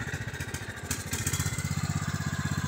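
A Husqvarna weedeater engine runs roughly with a steady, fast pulsing throb, sputtering and choking on excess fuel, loud and close throughout with no talking.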